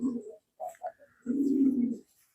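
A pigeon gives low, close coos: a few short soft notes followed by one longer, steady rolling coo, with quiet gaps between and no talk.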